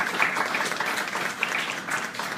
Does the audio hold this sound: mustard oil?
no